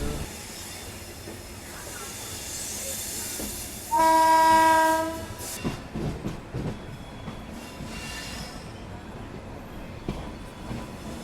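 A passenger train rumbles along a line toward Nagercoil in southern India, its horn blaring in one sustained blast of a couple of seconds, followed by rattling, clattering running noise that continues steadily afterward.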